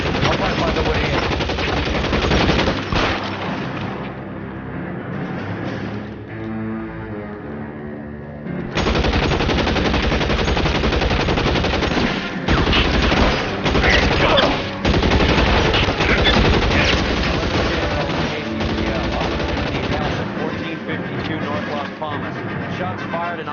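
Sustained automatic and single-shot gunfire in an L.A. Noire police shootout at a house on North Las Palmas, loud dense bursts running almost continuously with brief lulls, mixed with voices talking over the fire.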